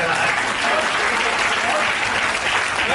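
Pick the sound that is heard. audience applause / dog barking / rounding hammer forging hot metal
audience applause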